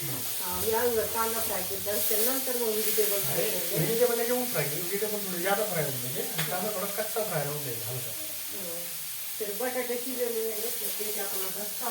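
Onion sizzles and hisses steadily in a pan, close and constant, while someone talks over it almost throughout.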